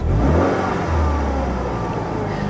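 A Saturn Sky engine revs up, then the revs linger and hang before slowly settling, a steady close mechanical drone with no talking.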